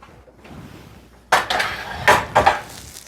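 A metal cupcake pan of red velvet batter slid onto the center rack of an oven, several loud close clanks and scrapes of metal after a quiet start.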